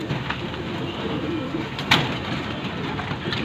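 Training pigeons cooing softly under a constant low background rumble, with one brief sharper sound near the middle.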